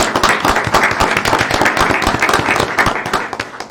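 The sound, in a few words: audience applause at a council meeting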